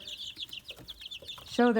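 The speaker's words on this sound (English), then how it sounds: "look at all those chicks in there" Chicks chirp softly and clucking comes from a rooster and other chickens, with a louder, sharper squawk rising near the end.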